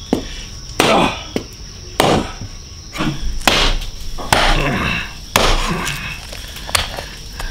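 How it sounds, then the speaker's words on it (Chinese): Hard yak rib bones are chopped into long sections with a cleaver: about eight heavy, close, ringing whacks land at uneven intervals, with quieter clatter between strikes. "剁成长节，"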